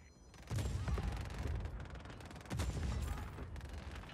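Rapid bursts of video game gunfire in Just Cause 4, with sustained automatic shooting and two heavy impacts around the middle and later, loud and continuous throughout.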